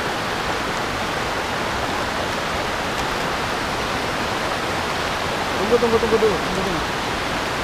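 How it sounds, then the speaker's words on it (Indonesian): The Citerep river flows over a sediment-rock bed near Babakan Madang, Bogor, a steady broadband rush of water filling the clip, with a brief spoken voice near the end. "Ini aliran Sungai Citerep."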